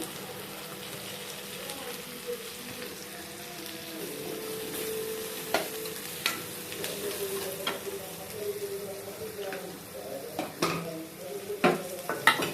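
Curry leaves sizzle in softened onions with chilli powder, cooking a village-style brinjal fry. A soft, steady frying hiss sits under intermittent spoon scrapes and light pan taps that grow busier toward the end.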